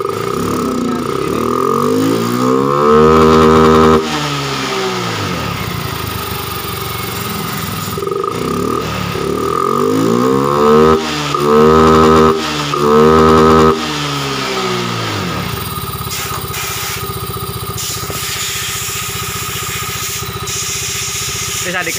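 A motorcycle engine idles and then revs hard in several bursts, the pitch sweeping up and falling back each time, with a steady idle between the revs and a few short remarks from people nearby.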